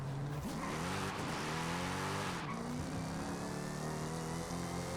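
A car launches hard with launch control in Forza Horizon 5, its engine droning steadily and rising in pitch with tire squeal, loud and continuous from start to finish.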